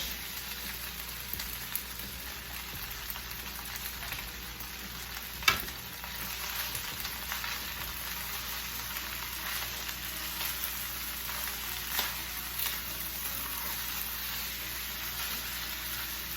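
Vegetables stir-fried with soy-sauced fried rice for kung pao chicken, a steady hiss and crackle of frying in a hot pan with occasional clinks of a utensil, continuous and moderately close.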